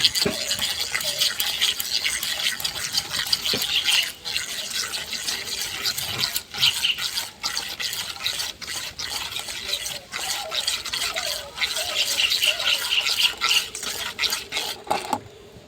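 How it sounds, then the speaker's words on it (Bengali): Spoon stirring sugar into half a bowl of white oil for an eggless cake, giving a continuous scraping, swishing sound with small liquid clicks against the bowl. "এখানে নিয়েছি হাফ বাটির সাদা তেল ভালো করে চিনিটাকে আমি গলিয়ে নেব"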